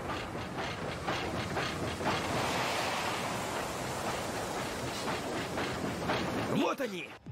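Sea train from the One Piece anime, a train running on rails across the ocean, gives a steady, loud rushing rumble with rhythmic chugging pulses, then cuts off with a brief clatter near the end.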